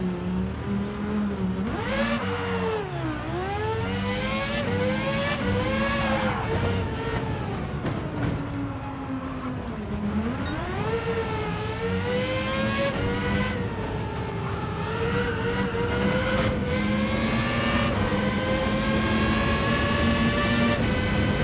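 An F3500-B open-wheel race car engine in Gran Turismo 7 screams loudly and continuously, revving high through repeated upshifts and sweeping dips in pitch as it brakes and accelerates, close and alone without talk.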